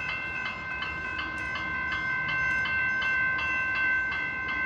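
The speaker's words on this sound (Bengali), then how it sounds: "ট্রেন আসতেছে গাইজ।" A train pulling into a rain-soaked station, its sustained tonal whine held steady over a rolling rumble that grows slightly louder as it nears, with no talking.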